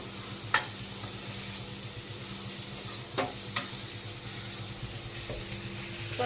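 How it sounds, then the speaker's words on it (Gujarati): Stuffed green chillies fry in a wok-style pan, giving a soft, steady sizzle with a low hum beneath and a few sharp clinks of a spoon against metal. "આ મરચાં ભાઈ શેકાઈ રહ્યા છે."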